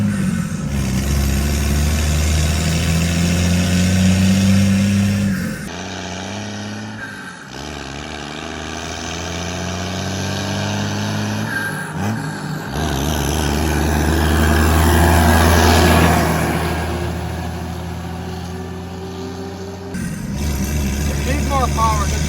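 A 2nd generation Dodge Cummins diesel truck engine drones and rises in pitch through several gear changes, loud and close inside the cab, with pauses between pulls.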